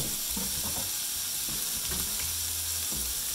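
Bacon sizzles in warm oil in a pan, a steady loud crackling hiss with small pops and a few faint clinks of a utensil stirring, with no talking.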